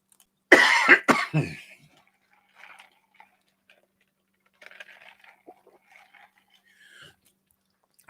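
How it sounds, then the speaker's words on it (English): A few sharp, loud coughs in quick succession close by, followed by near silence with faint small ticks and rustles. "I got to get that cough right now, that allergy cough."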